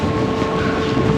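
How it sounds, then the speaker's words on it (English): Train pulling into a station near Stockholm airport, a loud steady rumble of rolling wheels and running gear with a sustained whine, close and continuous throughout. "And here's the train."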